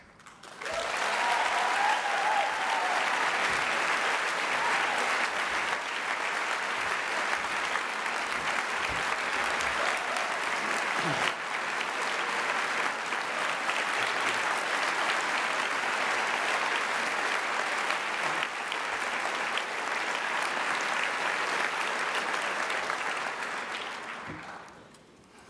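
Sustained applause from a conference lecture audience at NCECA greets ceramics lecturer Jack Troy, a dense, even wash of clapping holding steady for over twenty seconds before tapering off sharply at the end.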